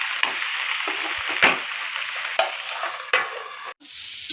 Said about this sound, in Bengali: পাট শাক ভাজা